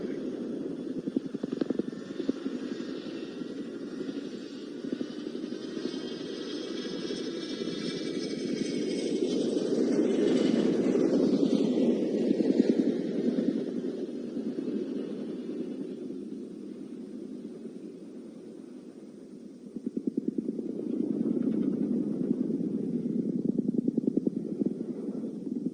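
A helicopter flying the seesaw manoeuvre of two opposed pedal turns at the Cosford airshow gives a steady, loud rotor roar with a pitch sweep midway and a renewed surge near the end.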